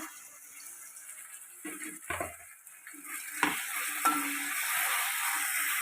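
Capsicum goes into a pan of frying masala macaroni: a few clattering stirs and utensil knocks, then a steady sizzle that builds and holds, close up.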